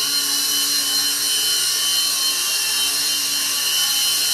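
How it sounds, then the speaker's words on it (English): A small UDI beginner RC helicopter flies forward and keeps rotating, its motor and rotor making a loud, steady high-pitched whine close by that holds without a break and has no talk over it. "you can just fly it like it is a 3-channel helicopter by going forward a little bit and then just keep rotating"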